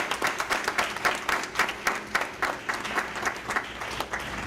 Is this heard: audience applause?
yes